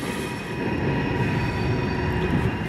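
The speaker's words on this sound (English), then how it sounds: "I don't know where that train is going or what its number is." A CSX freight train passes near a trolley museum in Baltimore, giving a steady, close rumble of rolling railcars with faint wheel squeal and a continuous hum throughout, with no talking.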